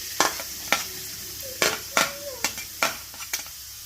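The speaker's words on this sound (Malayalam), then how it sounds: "ഇനി നമ്മൾ മാറ്റി വെച്ച വലിയ ഉള്ളി ആദ്യം ഇട്ട് കൊടുക്കുക." Chopped large onions sizzling in coconut oil in a pan, with a steady hiss broken by repeated sharp scrapes and clinks of a spoon stirring, close and fairly loud.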